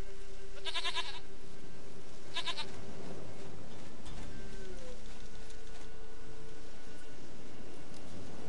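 A goat bleats twice in The Witcher 3, two short wavering calls close together near the start over a quiet ambient game background, with no talk.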